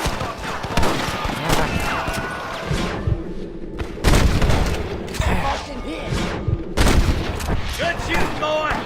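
A gunfight in the video game Red Dead Redemption: repeated loud gunshots and volleys crack close by, with heavier booms around the middle and later, while voices talk throughout.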